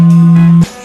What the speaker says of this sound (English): Like this tuning fork when I strike it.